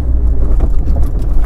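Engine of a 1981 Volkswagen Rabbit Pickup revving during a downshift, a loud, close low engine rumble rising and falling briefly inside the cab.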